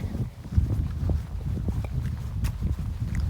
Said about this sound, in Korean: 바람도 많이 불고